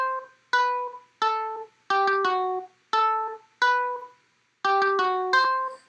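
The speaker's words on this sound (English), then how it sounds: "So the fuzzy pluck lead sounds like this." Fuzzy plucked synth lead playing a slowed drum and bass counter melody: short bright plucked notes, often in quick doubled pairs, each decaying fast, in an unhurried repeating pattern with no drums or voice.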